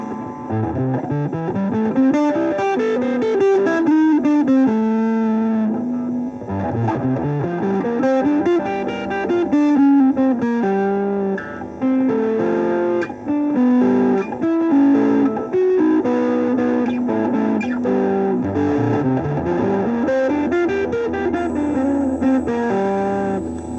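Electric guitar through an Orange Crunch 12 solid-state amp, a gritty overdriven tone running rising and falling note runs and licks continuously, close and fairly loud with a steady background hiss.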